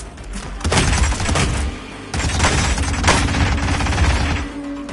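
Gunfire in the Hitman game on PS4 comes as dense, loud bursts of shots with impacts and crashing debris, continuing in two intense waves.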